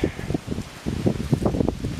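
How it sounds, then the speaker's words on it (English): Gusty wind on a camping trip along the Angelina River buffets the microphone in heavy low thumps and rumbles, with a rustling texture over the top and no talking. "It's a little windy. In fact, it's a lot windy."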